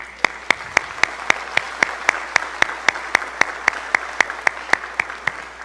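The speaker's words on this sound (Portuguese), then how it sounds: "Uma salva de palmas." Clapping at a Brazilian event: crisp, evenly spaced claps in a steady rhythm of about four per second, close and prominent over a quiet room.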